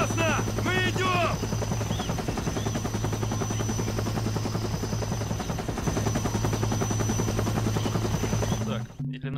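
Helicopter rotor thudding steadily and loudly throughout a Vietnam War combat scene in the video game Conflict: Vietnam, with bursts of gunfire and shouted voices layered over it before the noise cuts off near the end.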